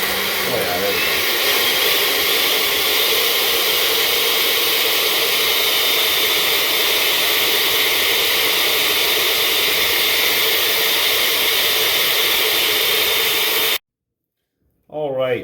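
Blender running steadily, pureeing a fermented green hot sauce with cilantro; a loud, continuous whirring roar that holds for about fourteen seconds, then cuts off abruptly into near silence.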